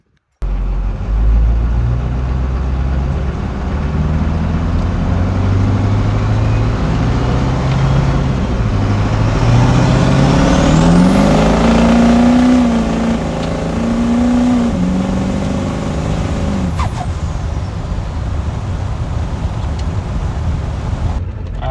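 Duramax diesel pickup truck with an S300 turbo under a hard pull, engine roaring loud and close as it revs climbing through the gears, with rising turbo whine and a brief dip between shifts.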